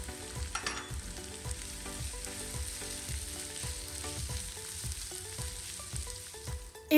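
Sliced onions and ginger sauté with salt in a pan, a constant close sizzle with regular soft knocks of stirring throughout and a brief clatter at the very end.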